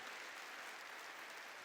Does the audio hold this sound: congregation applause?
yes